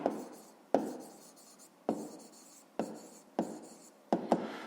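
A pen writing digits while a fifth-grade maths exercise is being solved gives a series of soft, close scratching strokes in short bursts, about seven separate marks spaced roughly half a second to a second apart.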